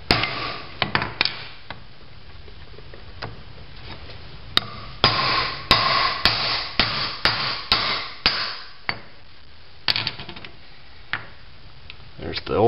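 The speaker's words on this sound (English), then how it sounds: "I got a socket that fits in there pretty good, and so let's see if we can tap it out." A hammer strikes a socket to drive out the throwout bearing on a Toyota pickup during a clutch replacement, a series of sharp metallic taps at irregular intervals, close and distinct over a quiet workshop background.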